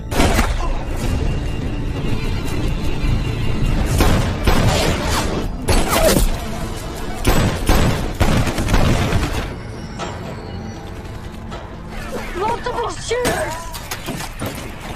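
Gunfire in a tense action film shootout, a rapid volley of loud, sharp bursts and heavy thuds packed into the first half, then dying back to scattered impacts and lower rumbling with a few lighter clicks near the end.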